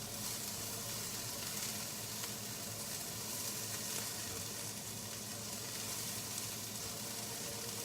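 Cabbage, carrots and onions cook down in a pan with a steady, quiet sizzle and hiss that holds even and unbroken throughout, with no talking.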